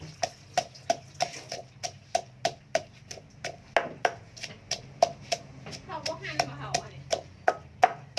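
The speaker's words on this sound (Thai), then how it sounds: "กระเทียมกับพริกโขลกด้วยกันเลยนะ" Garlic and chili pounded together in a mortar, giving regular sharp thuds about two per second, close and clear, with faint talk in the background.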